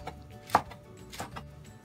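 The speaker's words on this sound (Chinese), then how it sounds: "再將佢切碎少少。" A knife chops peeled papaya into small pieces on a cutting board, a few quiet, close taps spaced unevenly, with one sharper knock standing out.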